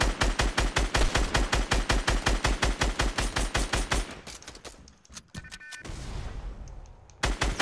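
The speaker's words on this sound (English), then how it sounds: "Hey, automatic weapons, bro. Automatic weapons." Automatic weapons fire in Fortnite Battle Royale as a rapid, steady burst of loud gunshots for about four seconds, then cuts off to quieter game noise before one more shot.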